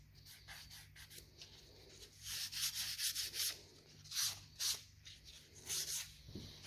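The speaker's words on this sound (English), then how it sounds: "You will go through more paper sanding the epoxy." Sandpaper is rubbed by hand over epoxy primer on the gas tank of a 1980 Suzuki GS750 motorcycle, making close, rhythmic scratchy strokes, several distinct passes repeating in uneven bursts.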